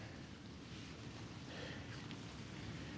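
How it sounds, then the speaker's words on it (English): Strong wind roars outdoors in a storm of rain, sleet and snow, buffeting the microphone in a steady, dense rumble that fills all three seconds with no pauses. "I think that wind's dying down a bit, but it is getting colder"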